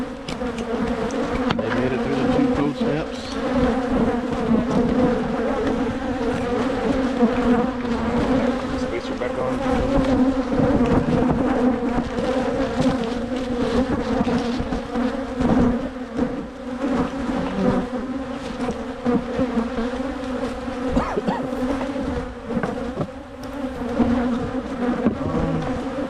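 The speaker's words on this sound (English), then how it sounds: "This one has quite a bees flying on the outside." Honey bees swarming around a beehive entrance on a warm January day, a dense continuous buzzing drone close by, steady throughout with occasional louder passes of individual bees.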